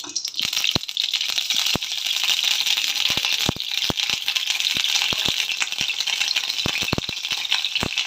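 Mustard seeds splutter in hot oil for a Tamil black-eyed pea curry, a dense, continuous crackle cut by frequent sharp pops, close and loud, with no talk.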